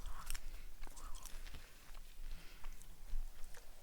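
Close, soft crunching from someone eating snacks, with irregular bites and chews spread across a few seconds over quiet background noise and no talk.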